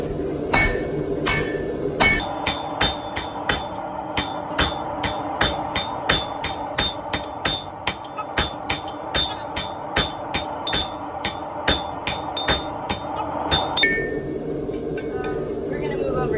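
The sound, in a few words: blacksmiths striking hot iron with big hammer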